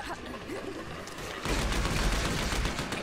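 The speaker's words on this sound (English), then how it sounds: "Machine gun!" Machine gun fire in the video game Final Exam comes in rapid, rattling bursts that grow louder and denser halfway through, with the dense volley of combat close and continuous.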